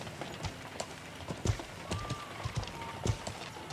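Horse hooves clip-clop steadily as the horse is ridden uphill in the game Feudal MMO, an irregular run of close, thudding steps over a rustling background.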